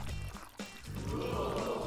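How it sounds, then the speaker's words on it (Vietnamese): Glue poured over a balloon for a DIY yarn craft, a soft continuous liquid pouring and trickling sound, fairly faint and steady, with a brief break partway through and no talk. "Đầu tiên mẹ sẽ rót keo lên toàn bộ bóng bay"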